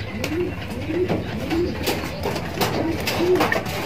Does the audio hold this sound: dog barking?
no